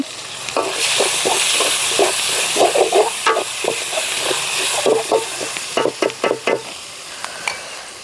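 Chicken masala with finely chopped tomato fries in a pan over a wood fire, a steady close sizzle broken by repeated scraping stir strokes, with a dense run of stirring clatter near the end.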